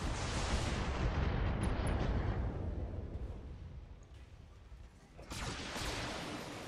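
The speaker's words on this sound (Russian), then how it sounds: "три ближних ракеты пойдут в пушку" Missiles fire and explode in the BattleTech mech combat video game, a loud rumbling roar of blasts that fades midway, then a fresh burst of explosions follows.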